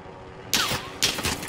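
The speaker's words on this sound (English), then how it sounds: "I hear gunshots." Two sharp gunshot bursts crack out in the Warzone battle royale game, the first about a third of the way in and the second a moment later, each loud and followed by a short decaying tail.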